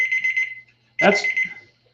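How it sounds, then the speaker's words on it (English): A cake timer alarm beeps in quick repeated electronic pulses, stops while someone speaks, then starts beeping again at the end. "That's my cake alarm."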